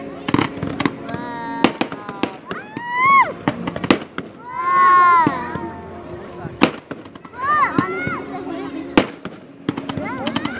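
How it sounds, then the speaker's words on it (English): Fireworks burst at Katara in Doha, Qatar, in sharp, irregular booms and crackles, some whistling, with children and adults talking and exclaiming loudly throughout. "You're just in time to see the fireworks."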